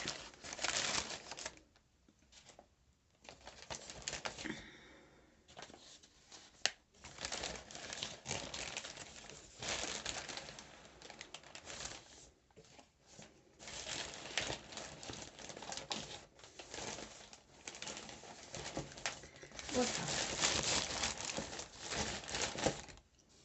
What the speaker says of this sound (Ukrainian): Склала в пакет і зав'язую туго, щоб не було ніде дирочки.